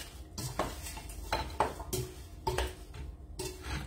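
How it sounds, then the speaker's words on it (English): A utensil stirring seasoned chicken in a clear bowl, with irregular knocks and scrapes against the bowl, several sharp clinks amid softer shuffling, close and moderately loud. "we're going to stir this up so the seasoning gets on everything"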